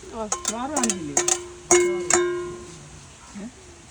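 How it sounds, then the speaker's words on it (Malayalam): Onions and tomatoes for chicken curry cook in a pan over a wood-fired stove, with a soft sizzle and scraping stir strokes beneath voices talking close by. "ചിക്കനുള്ള ഉള്ളി വഴട്ടി അതിൻ്റെ അകത്ത് തക്കാളി ഇടണേ"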